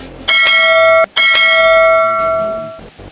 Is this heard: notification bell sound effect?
yes